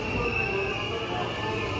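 A steady rumbling roar of a Kobe Line train bound for Okubo, with faint metallic wheel squeal, constant and moderately close throughout.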